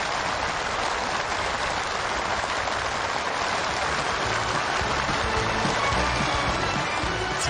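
Enthusiastic applause from the assembled participants at a completion ceremony in Onchon County, a dense, continuous roar of clapping from a large crowd that holds evenly throughout without letting up.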